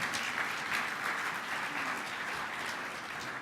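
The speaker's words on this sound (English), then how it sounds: "let's give ourselves another round of applause for such a strong showing this year" A conference audience at the League of Oregon Cities annual gathering applauds in a dense, steady wash of clapping that holds evenly for a few seconds.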